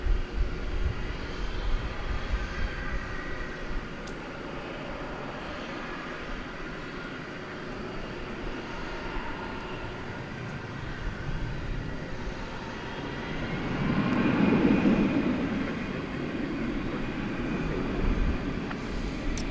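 An American Airlines jet rolls for takeoff at DFW Airport at night, a broad distant engine roar that swells gradually toward the end.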